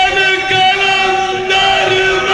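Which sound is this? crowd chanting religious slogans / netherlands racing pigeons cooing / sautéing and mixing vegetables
crowd chanting religious slogans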